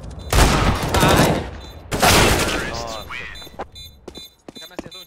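Gunshots in Counter-Strike on the Mirage map: two loud bursts of rapid gunfire, then scattered shorter shots, with a voice talking over part of it.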